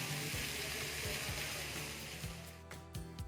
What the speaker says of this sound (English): I quite like the fountain they have here on the ground floor